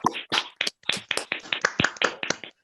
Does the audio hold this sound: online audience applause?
yes